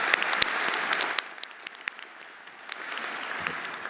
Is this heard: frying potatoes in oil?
no